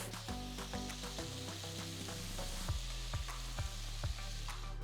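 Cut potato pieces hitting hot oil with splattering mustard seeds and hing in a kadai, a loud steady sizzle close up with crackling pops and scraping stirs on top.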